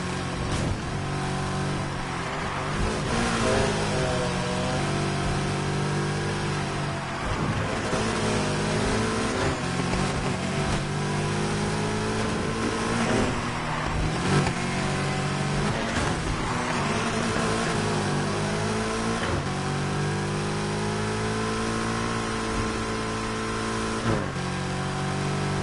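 Ferrari F40 tuned past 1,000 horsepower racing a Skyline with a 900-horsepower Porsche engine in NFS Heat, the engines roaring loud and continuously, pitch sweeping up and dropping through gear shifts for the whole stretch.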